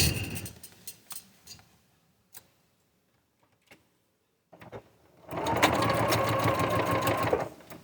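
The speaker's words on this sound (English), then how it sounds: "And I'm going to stitch right on that line." A sewing machine stitches along a marked line on a quilting kit, first a few soft clicks and pauses, then a steady close whirring run of stitching for the last couple of seconds.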